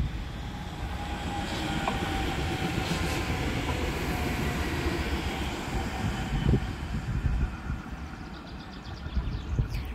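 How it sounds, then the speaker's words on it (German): A DB class 442 electric multiple unit passes at Steinbach am Wald on the Frankenwald ramp, a steady rolling rumble of wheels and rail noise that holds for the whole stretch with some clatter near the end. "Achso, und da kommt schon der nächste Zug. Das ist eine 442."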